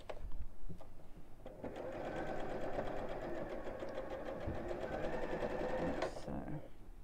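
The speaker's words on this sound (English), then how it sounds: "let's sew around this one" A sewing machine stitches around a felt Easter egg decoration with a fast, steady mechanical chatter and hum, starting after a few soft clicks and continuing close by.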